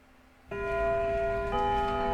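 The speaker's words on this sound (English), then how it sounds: "And there goes the bell." School bell in the video game Lucid9 rings out suddenly after near silence, a sustained, resonant metallic tone with a second strike partway through, loud and alone.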